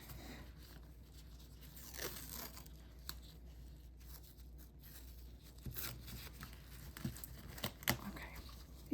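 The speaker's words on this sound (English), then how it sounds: "I'm going to tape it down." Quiet crinkling and tearing of medical tape being pulled and pressed down to secure an IV line, with short scattered rips and rustles close by, soft and intermittent.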